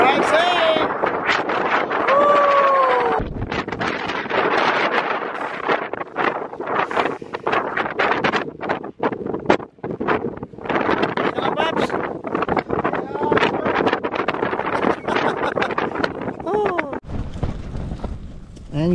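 Roaring wind with rain on Sunset Peak at about 5 degrees, loud gusty buffeting against the microphone throughout, with voices calling out and speaking over it.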